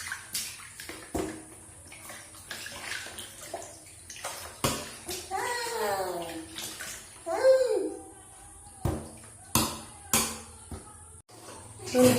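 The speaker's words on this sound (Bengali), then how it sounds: "স্নানটা করিয়ে দিই।" Water sloshes and splashes in bursts during a child's bath, with a voice babbling and talking between the splashes at close range.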